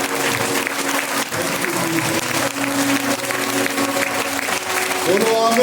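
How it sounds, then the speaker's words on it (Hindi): Church congregation at a Holy Communion service clapping loudly and continuously in a dense, sustained wave of applause, with voices calling out beneath it and the clapping swelling toward the end. "ताली बजाएं जोर से। ताली बजाने में जितनी ताकत लगा दीजिए।"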